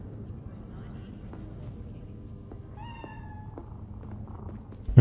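A cat in Cyberpunk 2077 lets out a single short meow partway through, faint over a low background rumble, before a sudden loud thump at the end.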